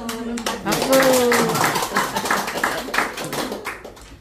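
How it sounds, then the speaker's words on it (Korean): A small group claps in scattered, uneven bursts at a Korean church gathering of elderly members, while voices keep talking over it nearby. "박수."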